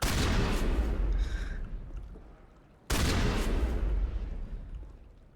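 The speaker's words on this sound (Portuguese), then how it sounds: "eu tô dando uns tiros de shotgun do lado dele" Two heavy shotgun blasts in a video game, spaced a few seconds apart, each a loud booming crack that rolls off into a decaying rumble.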